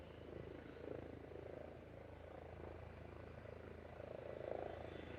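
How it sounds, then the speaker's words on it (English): Distant air ambulance helicopter rotor drone near Liverpool Airport, a low steady thrum that swells slightly, heard faintly under ambient noise. "Oh, helicopter's up."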